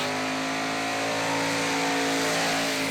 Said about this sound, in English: And listen to the throttle.